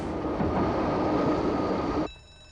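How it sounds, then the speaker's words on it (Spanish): An ALE 803 three-car electric multiple unit, built in 1961, rumbles past loudly near the north end of the Borgallo tunnel, a dense rolling roar that cuts off abruptly, leaving a faint whine. "Esta unidad múltiple eléctrica serie ALE 803 se dirige hacia el extremo norte del túnel del Borgallo."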